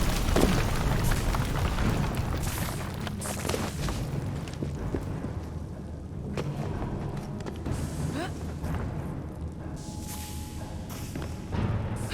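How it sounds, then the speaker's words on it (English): Deep booming explosion in the video game Assassin's Creed Syndicate, a loud rumbling thud that rolls on under dense game ambience with scattered thumps and debris, sustained and close throughout. "What was that explosion?"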